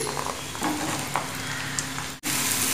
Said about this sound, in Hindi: हल्दी पक गई है मिर्ची पाउडर के साथ में, अब मैं डाल रही हूँ ये हरी मिर्ची